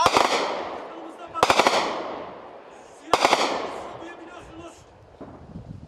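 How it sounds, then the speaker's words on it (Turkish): Loud bursts of automatic gunfire from a clash near Ceylanpınar, across from Ras al-Ayn, crack out in three volleys, echoing across open ground with rumbling tails between them. "Sadece silah sesleri değil, mermiler de buraya geliyor"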